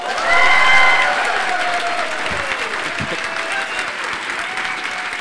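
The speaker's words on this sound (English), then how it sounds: "Okay, and now a crazy," A whole audience bursts into wild, enthusiastic clapping at a developers' show-and-tell event. The applause is dense and loud, with whoops and cheers on top, and it holds steady for several seconds.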